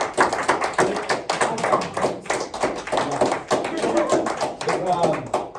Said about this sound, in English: just a round of applause for the sheer amount of work that we've already put into this project